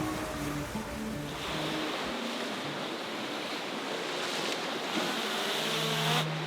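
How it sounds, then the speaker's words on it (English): A sailboat's hull slices through open ocean, giving a steady rushing wash of water and surf with some wind noise, fairly close and continuous throughout, with no voices. "watching the hull slicing her way through the water"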